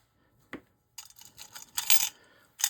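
Silver and gold coins clink and jingle in a few quick, bright bursts as they are pulled out, with short quiet gaps between them, close by and fairly soft.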